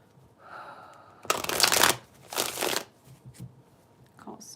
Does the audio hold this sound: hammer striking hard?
no